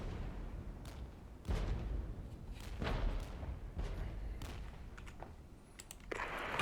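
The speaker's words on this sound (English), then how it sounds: "They're already getting hit by artillery" Artillery fire striking Leopard tanks in the video game Regiments, heard as several dull, distant thumps and booms spaced a second or so apart over low rumbling ambience.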